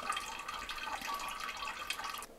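A character drinks from a water filter in a survival video game, heard as a steady, close trickle of running water that continues for about two seconds before cutting off abruptly.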